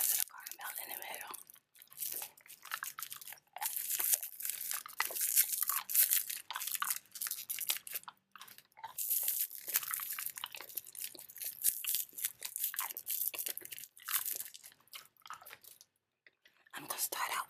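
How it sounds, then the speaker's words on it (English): Hard candy with a caramel center being eaten up close: continuous crunching and chewing, wet mouth sounds and crackles, loud and near, with only brief pauses. "Even though it's hard candy, it goes really quick because of the caramel in the middle."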